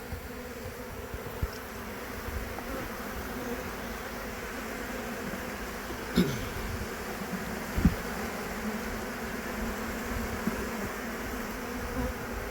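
Honeybees buzzing steadily during a rescue from a bathroom, a low continuous hum with a few brief louder knocks partway through.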